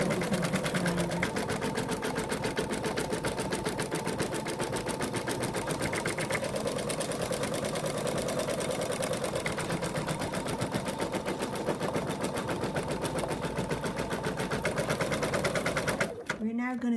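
An embroidery machine stitches out an outline in a rapid, steady needle rhythm, continuous and close, stopping abruptly just before the end.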